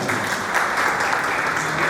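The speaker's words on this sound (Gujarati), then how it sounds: "ખૂબ ખૂબ આભાર અને તાળીઓથી વધાવો." Audience at a Dhodia community mini-parliament gathering in Dadra and Nagar Haveli breaks into steady, dense applause, a continuous wash of many hands clapping that fills the whole stretch without pause.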